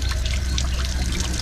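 Water pours steadily into a bucket, a continuous close splashing stream with no talk.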